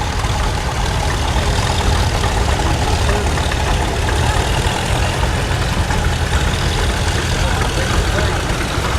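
An old tractor engine runs at a cotton gin festival with a loud, steady, low chugging drone close by, while people talk over it.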